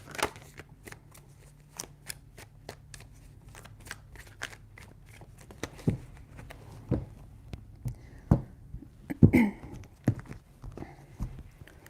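Tarot cards being shuffled by hand in a quiet room, a series of crisp riffling and slapping bursts, close and fairly soft, building to louder shuffles near the end.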